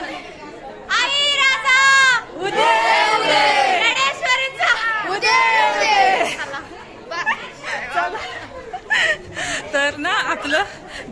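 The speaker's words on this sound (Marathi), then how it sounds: "केवढी गर्दी आहे बघ" A large, noisy crowd at a temple festival in Yermala, with many people talking over one another nearby, some chuckling and laughing, and children's voices heard throughout at a fluctuating, fairly loud level.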